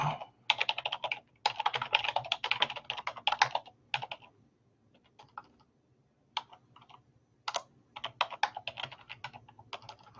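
Rapid clattering keystrokes on a computer keyboard come in quick bursts with short pauses, close and fairly quiet, with no talking.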